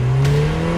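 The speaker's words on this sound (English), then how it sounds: "Complete with the Esprit-style turbo badging and the most traditional Lotus engine of them all," Lotus Emira Turbo sports car with a turbocharged inline-four engine, heard as a steady close engine drone with a low hum and a brief rise, no voices.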